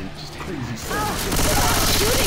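Rapid gunfire sputters in a video game, a dense continuous rattle building louder over a couple of seconds, with voices talking over it.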